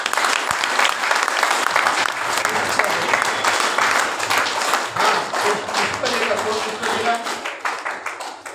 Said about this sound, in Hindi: इनका स्वागत करिए जोरदार तालियों के साथ।